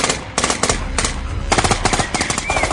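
Rapid bursts of gunfire in a war audio drama about a battle at an army post, sharp automatic volleys in clustered rattling runs, loud and close.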